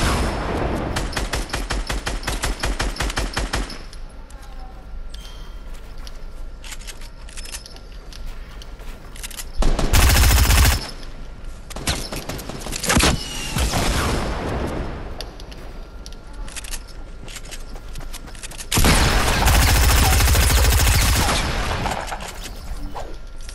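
Rapid automatic gunfire from a musket-era shooting video game, dense bursts of shots running through the first few seconds, then scattered cracks and two loud blasts later on, with no talk.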